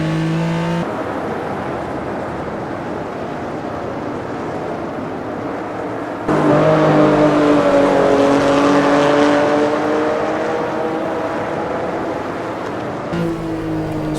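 Porsche 911 RSR 3.0 racing engine in the Automobilista 2 sim on the 1970s Red Bull Ring, a steady loud drone that rises in pitch as it accelerates partway through, with brief shifts and other cars nearby.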